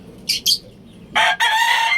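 Two short, high bird calls, then a louder, drawn-out crow from a young gamefowl stag with a brief break, fairly close with faint background noise, at a gamefowl expo.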